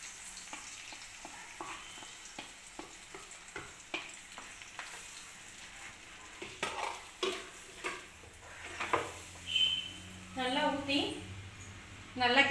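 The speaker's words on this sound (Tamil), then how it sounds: "நல்லா கிண்டி விடுங்க" A spoon scrapes and stirs thick dates halwa in a pan with repeated rhythmic strokes, getting louder toward the end, while a soft sizzle runs underneath.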